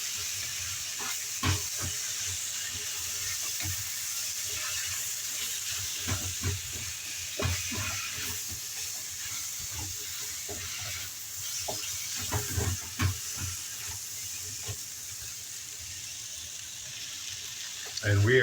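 A celery chicken stir fry sizzles steadily after sauce is added, with repeated clacks and scrapes of stirring against the pan, and a voice speaks intermittently over the cooking.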